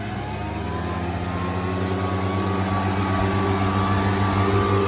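Two people work engine-driven blowers to sweep hazelnuts into a pile on a sloped orchard, a loud, steady droning motor close by throughout with no talk.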